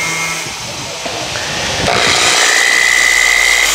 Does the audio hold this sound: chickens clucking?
no